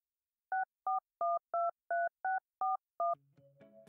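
A phone number is keyed in as eight crisp DTMF tones in quick, even succession, each a clean two-pitch beep, followed by a faint ringing line tone.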